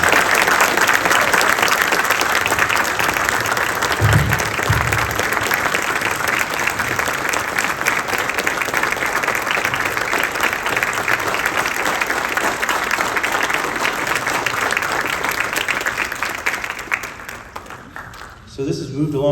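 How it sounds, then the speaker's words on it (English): Sustained, dense audience applause for newly sworn-in police officers at an Oxnard Police Department swearing-in ceremony, many hands clapping steadily for nearly twenty seconds before tapering off, with a few voices under it. "give a big round of applause for our 7-year officers"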